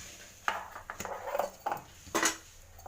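Okra being stirred in a pan for a tawa fry, with a metal spatula scraping and tapping against the pan in several short, close strokes and no voices.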